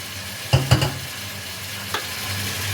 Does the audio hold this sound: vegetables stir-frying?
yes